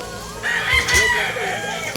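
A rooster crows once nearby, a loud drawn-out call lasting about a second amid light background noise.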